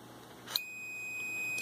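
Multimeter on continuity setting testing a float switch, a short click followed by a steady high-pitched electronic beep that continues, faint and close.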